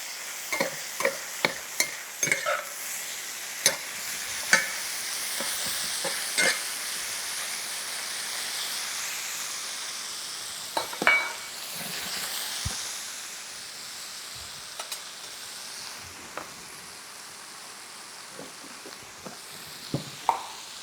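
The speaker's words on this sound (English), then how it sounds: "really just letting that sweat in those aromatics just to get infused by the oil" Aromatics stir in hot oil for Filipino adobo, a steady close sizzle with repeated sharp scrapes and clinks of the utensil against the pan, no voices.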